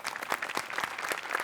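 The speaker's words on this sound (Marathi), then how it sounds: "त्याच्यासाठी पण एकदा टाळ्या" Brief, soft applause from a studio audience on a Marathi comedy show, a short patter of scattered claps heard at a distance.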